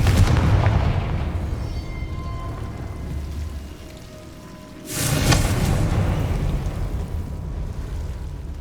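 A Confringo spell explosion in the PS5 game Hogwarts Legacy sounds as a loud burst that booms out and then rumbles down, set against a dense, steady game soundscape, with no voices.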